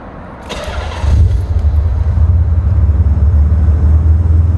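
A Nissan 300ZX Twin Turbo is started with the key: a brief cranking, then the engine catches and settles into a loud, steady low idle close by.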